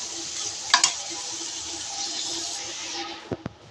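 Shrimp sizzling steadily in oil in a pan as they are stir-fried, with a couple of sharp spoon clinks against the pan and a pair of light knocks near the end.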